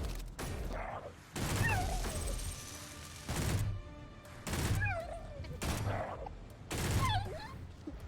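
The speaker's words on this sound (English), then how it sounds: "sounds of gunfire" Bursts of gunfire from a video game crack out in five or six loud volleys spaced a second or so apart, each followed by brief echoing tails and chirping game effects.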